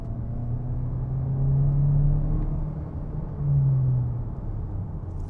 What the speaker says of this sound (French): On entend un peu le turbo, c'est marrant.